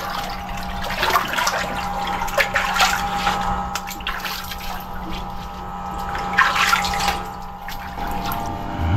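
Water drains out of an engine under repair, a steady gushing trickle with splashy bursts and a faint background hum, fairly loud and close.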